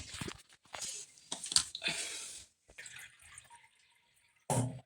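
Water poured from a cup into a pot of uncooked rice, six cups for three of rice, arriving in short splashy bursts with gaps between pours, close by.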